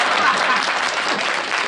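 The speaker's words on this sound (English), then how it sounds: "Don't applause, it raises dust." A studio audience at a comedy variety show breaks into loud, dense applause, a short continuous burst of clapping close up.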